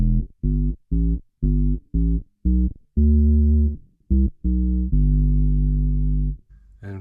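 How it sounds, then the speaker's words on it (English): A bass guitar with its tone rolled off runs through a Boss OC2 octave pedal, playing a run of short, separated deep notes followed by longer sustained ones, thick and sub-heavy, with nothing else playing. "So OC2 set the way that most people want to use it."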